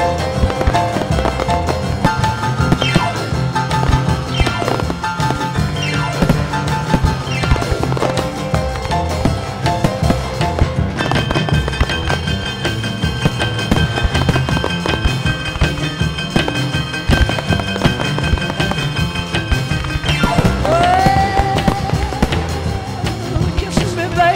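Fireworks at a wedding at Mottram Hall crackle and thud repeatedly in dense, steady bursts, mixed in with loud music playing throughout.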